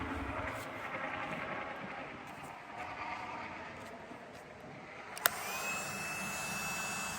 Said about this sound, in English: we're going to use a heat gun